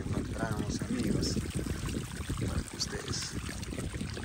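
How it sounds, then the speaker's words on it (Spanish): Water trickles and flows down a small stream along a village path, a steady close babbling rush that continues evenly throughout. "así va bajando el agua aquí"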